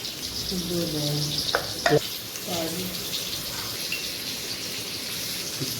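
Pieces of arbi, or taro root, fry in a pan with a continuous soft sizzle, while a person speaks over the cooking and a couple of brief knocks sound midway.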